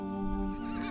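A horse neighs in a video game, a loud close whinny with a wavering tonal cry that holds for about a second over a low rumble, with no talk.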